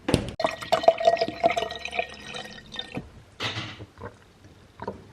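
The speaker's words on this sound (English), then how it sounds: "Let's do some coconut water." Coconut water trickles and drips into a glass in a steady pour lasting a couple of seconds, followed by a few softer clinks and handling sounds, close by and alone.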